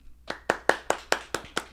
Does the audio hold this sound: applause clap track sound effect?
yes